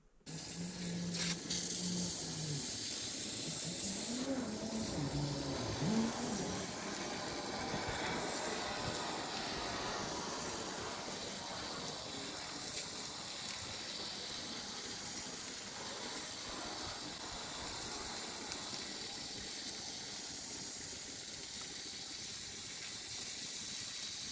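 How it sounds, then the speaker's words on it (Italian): A water hose rinses a car radiator being washed, a steady loud hiss and spray that runs on without a break, with no speech heard. "la gomma dell'acqua e inizio a sciacquare"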